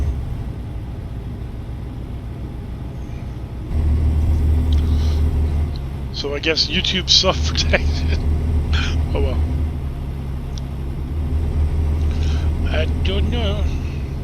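A truck engine in American Truck Simulator hums low and steady while driving, a constant mid-level drone that deepens partway through, with someone talking casually over it.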